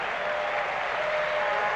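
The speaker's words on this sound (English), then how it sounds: "he's given a round of applause by the fans here at Maple Leaf Gardens" Steady, dense applause fills the arena as hockey fans at Maple Leaf Gardens clap for Wayne Gretzky during a 1980 Edmonton Oilers at Toronto Maple Leafs game, a continuous wash of clapping that stays loud throughout.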